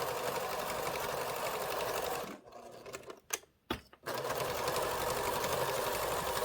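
A sewing machine stitches a wrap-around quilt binding with a continuous, close, rapid mechanical whirr that stops briefly in the middle before running steadily again.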